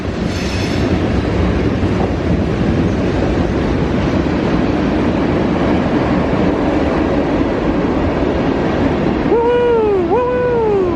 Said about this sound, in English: Thought I was kidding about a train going right behind.